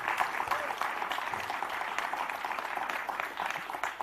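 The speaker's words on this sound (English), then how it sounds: "Can we have a round of applause for Sindhura as well?" An audience at a business learning summit in Hyderabad gives a steady round of applause, dense clapping that holds evenly throughout.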